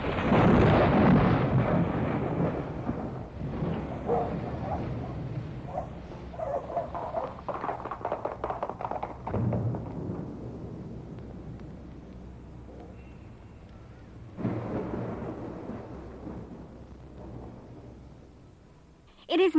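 A thunderstorm with a heavy downpour: deep rolling thunder rumbles loudly at first, then fades and returns over a constant wash of rain, ending with a sharp burst.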